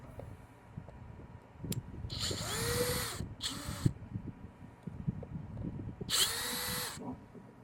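A power drill backs screws out of the plastic data port on an Airstream trailer, with three short, loud whirring bursts separated by quiet handling clatter.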